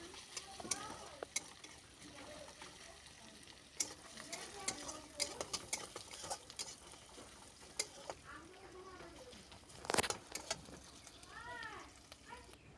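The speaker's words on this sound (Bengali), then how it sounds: "পেঁয়াজ কুচিটাকে ভালো মতন লাড়াচুড়া করে লাল লাল করে ভেজে নেব।" Chopped onions stirred and fried in a pan for egg curry, with soft sizzling under repeated spoon scrapes and a few sharper clinks, fairly quiet throughout.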